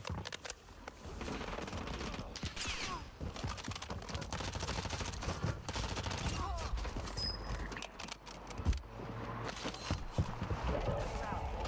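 Warzone video game gunfire, rapid bursts crackling throughout under a busy in-game mix with occasional talk.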